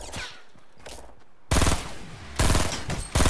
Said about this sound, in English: Where's this guy shooting me from?